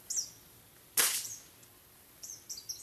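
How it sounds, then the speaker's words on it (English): A single sharp pellet rifle shot cracks out loud and close, followed by a short decaying tail, with faint bird-like chirps scattered before and after in an otherwise quiet outdoor setting. "Good thing I got my trusty pellet rifle."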